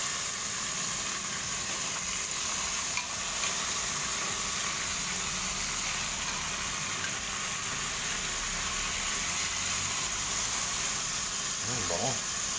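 Marinated pork for adobong baboy sizzles steadily in a pan, a constant hissing sauté running through the whole stretch at moderate level with faint background hum.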